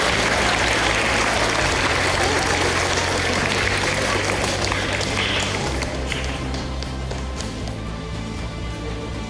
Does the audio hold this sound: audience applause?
yes